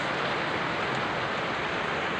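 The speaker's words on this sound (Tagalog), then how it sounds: "ang lakas ng ulan dito sa Gentry City" Heavy rain pours down steadily in Gentry City after a long dry spell, a dense, unbroken hiss filling the whole stretch with no voices.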